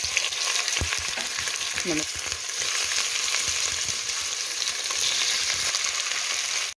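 Meat crackles and sizzles continuously in hot oil and ghee in a pot for an okra stew, with a loud, even frying hiss, a couple of brief clatters near the start, and no voices.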